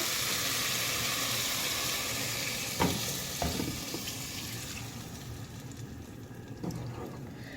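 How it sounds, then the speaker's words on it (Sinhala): Water pours into a hot pan of sizzling pork fried in oil for a spicy Sri Lankan curry, frying hiss fading as liquid is added, with a few clinks of a utensil stirring. "මම මේකට දැන් වතුර එකතු කරගන්නවා"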